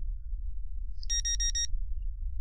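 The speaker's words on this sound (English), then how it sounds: "beep beep beep beep beep beep beep beep beep beep" Rapid electronic alarm beeps from a video game jail cell sequence, a short burst of about six bright pulses sounding alone over a low steady hum.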